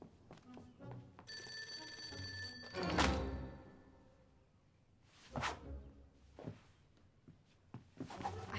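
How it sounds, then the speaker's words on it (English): A telephone bell rings in an indoor scene, its steady tone sounding over a few sharp whooshes and thumps, with no one speaking. "Oh, the phone."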